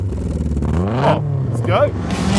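A Volkswagen Golf Mk1 GTI 16-valve engine revs up in a short, loud rising burst while voices talk over it.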